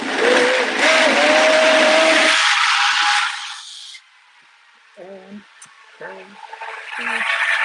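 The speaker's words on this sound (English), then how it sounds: "I'm gonna run this blender. It's gonna get noisy." A blender whirs loud and steady while making a smoothie with hydrogen water, its pitch shifting as it runs, then it cuts out, leaving quiet room noise with a few short voiced sounds.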